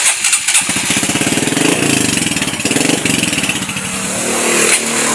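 Motorcycle engine cranking and catching, then running with a fast, loud rhythmic putter close by, the idle holding steady and rising slightly near the end.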